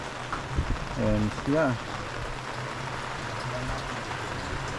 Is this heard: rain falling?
yes